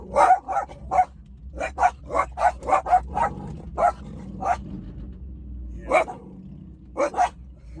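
Several dogs close by bark loudly in a rapid series of sharp yaps with brief pauses, bursts clustering then resuming; someone speaks briefly between barks.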